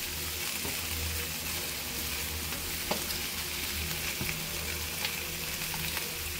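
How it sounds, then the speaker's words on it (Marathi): Ginger, garlic and tomatoes sauté in a pan, giving a steady, close sizzle and fry hiss throughout, with a few faint stirring clicks and no talking. "आलं लसणीचा कच्चट वास जाईपर्यंत परतवायचं."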